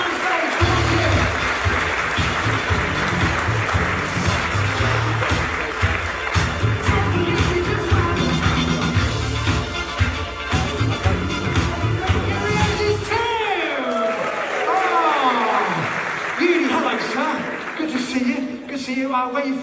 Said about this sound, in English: Ladies and gentlemen, give Tim a round of applause